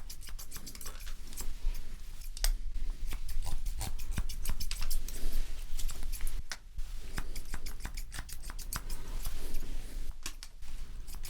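Scissors trimming hair in a quiet ASMR haircut, a rapid series of crisp close snips and blade clicks, irregular in rhythm, with soft rustling in between and no talking.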